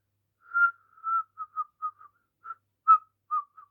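A person whistles a halting run of short, breathy notes, about nine or ten separate chirps with small gaps between them, clear and close with no talking.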